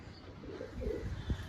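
Pigeon coos softly and close, a couple of low throaty murmurs from a flying-breed pigeon, faint and without talking.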